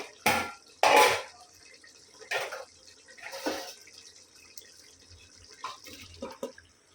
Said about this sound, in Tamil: இப்போ நம்ம வந்து ரைஸை கொட்டிடலாம்.